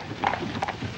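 Horses' hooves clip-clop steadily in a short, continuous burst, moderately close, with no voices over them.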